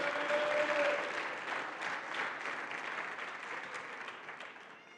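A church congregation breaks into applause during a sermon, a soft, distant-sounding patter of many hands that fades gradually toward the end.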